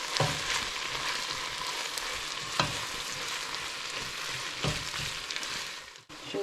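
Whole spices (bay leaf, black pepper, cloves and cinnamon) sizzle steadily in a pot, with a constant dense crackle broken by occasional scraping strokes of a stirring spoon.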